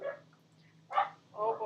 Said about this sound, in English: these puppies are barking up a storm